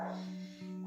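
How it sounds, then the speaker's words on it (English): A dog outside a house gives a single short, close bark over a steady low hum. "that's my dog, which later on we'll get to"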